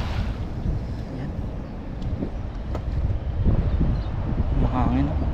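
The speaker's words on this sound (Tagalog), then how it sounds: "Mahangin." Gusty wind buffets the microphone in a low, rumbling roar at the shore during high tide, with scattered voices and small knocks mixed in.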